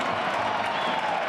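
A packed college football stadium of some 30,000 to 40,000 fans roars before the 2010 Colorado Buffaloes versus Colorado State Rams season opener, a dense, steady wash of cheering and clapping with no clear breaks.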